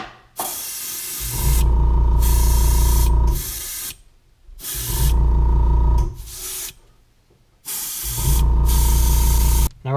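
An airbrush gun running at about 25 PSI lays a thick coat of fluorescent orange paint onto a crawfish crankbait lure, giving three long, loud, steady hissing bursts separated by short pauses, with no talking.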